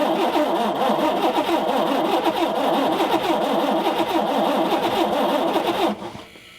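A truck engine cranks after preheating in -25° cold, a loud, rapid, rhythmic churning that continues for about six seconds before cutting off abruptly.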